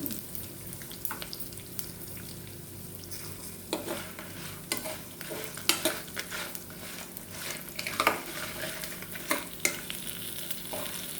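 Spices fried with asafoetida over a low flame sizzle steadily in a pan, broken by frequent scraping and stirring strokes from a spoon, close up with no talking.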